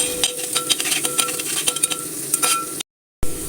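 Green chillies and aromatics roast in a pan, making a steady close sizzle broken by frequent scraping stir strokes and utensil clicks against the metal, then a sudden cut to silence before the frying resumes.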